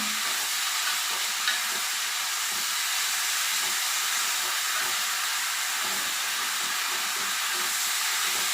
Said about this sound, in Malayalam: നാരങ്ങയൊന്ന് നന്നായിട്ട് വാടി വരണം അതുവരെ നമുക്കൊന്ന് ഇളക്കി കൊടുക്കാം